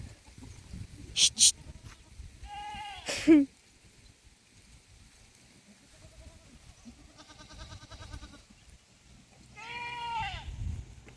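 Several goats bleat in separate bursts, a couple of sharp loud calls early and wavering bleats later, over a faint outdoor background.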